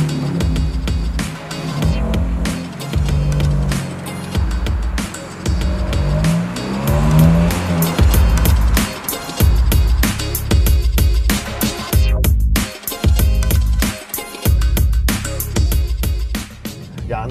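A 2019 Kia ProCeed drives hard, its engine revving loudly and fluctuating while tires squeal through corners, with a continuous close-up roar and no talking.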